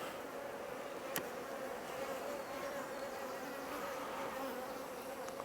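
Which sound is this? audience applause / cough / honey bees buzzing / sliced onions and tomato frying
honey bees buzzing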